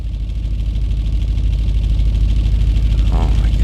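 Audi B7 RS4 engine idling just after a cold start, a steady low rumble running loud and close throughout, with a brief squeal-like tone near the end.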